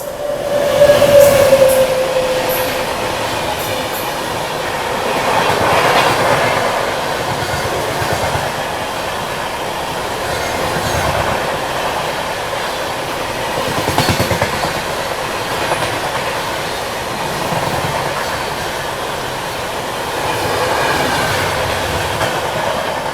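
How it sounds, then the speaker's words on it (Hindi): The Karnataka Express from New Delhi to Bangalore passes on the up line with a loud, sustained rumble and rail noise, rhythmic wheel clatter, and a brief squeal at the start. "अभी आ रही है कर्नाटका एक्सप्रेस। ये आ गई अपनी कर्नाटका एक्सप्रेस"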